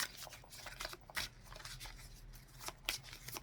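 Tarot cards shuffled by hand in a series of quick, crisp riffling and flicking bursts, close and fairly quiet, with brief pauses between the bursts and no voices.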